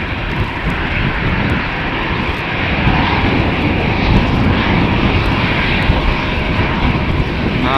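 Delta Airbus A330-300 engines roar at full power on a rolling takeoff at Amsterdam Schiphol, a loud, steady broadband jet rumble that builds slightly and holds throughout, close and continuous with no talking.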